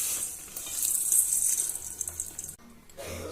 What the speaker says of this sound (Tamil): இப்ப கொஞ்சம் கொஞ்சமா சுடு தண்ணியை சேர்த்து கலந்து விட்டுக்கலாம்.